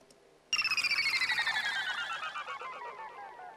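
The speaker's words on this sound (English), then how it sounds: "The blips by themselves, without reverb, sound like this." Dry synth blips with no reverb in an electronic track start abruptly as a rapid, bright cascade of pitches that slide downward together, staying loud and close for about three seconds.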